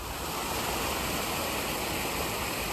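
Water gushes steadily out of the bottom gates of a full canal lock, a dense continuous rushing roar heard close and loud with no break.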